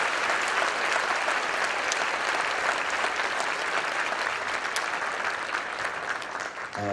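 Warm applause from a church congregation fills the space, steady and dense throughout before thinning slightly at the end.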